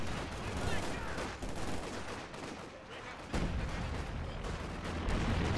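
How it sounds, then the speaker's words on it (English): Machine gun fire in a first-person shooter video game, dense continuous bursts of rattling gunfire with a sudden louder surge partway through, fairly far and muffled. "someone grenade that machine gun"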